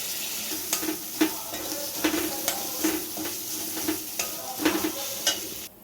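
Ground spices with lemon juice sizzle in a hot pan while a spoon stirs, steady frying hiss punctuated by regular scraping strokes, close and without talking.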